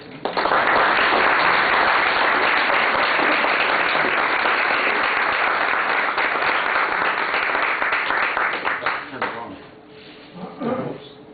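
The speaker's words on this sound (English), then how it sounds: "a big round of applause" A lecture audience applauds loudly and steadily for about nine seconds, welcoming the speaker, then the clapping thins out and fades, leaving a few scattered claps.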